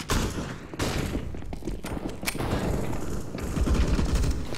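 Rapid P90 submachine gun fire in the video game CS:GO, dense continuous bursts of shots, loud and steady with thuds mixed in.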